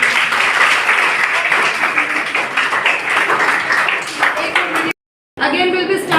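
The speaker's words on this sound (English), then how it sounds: "Clap for yourself." A classroom of students applauds together in a loud, dense burst of clapping that lasts several seconds. It cuts off briefly, then resumes with a voice heard over it.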